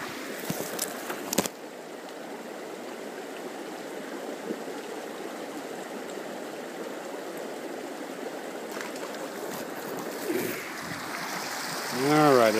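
Cookstove Creek, a cutthroat trout fishing stream, flows with a steady close burbling rush of moving water, with a few faint knocks early and a brief voice at the very end.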